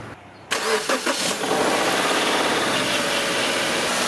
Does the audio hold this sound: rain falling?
no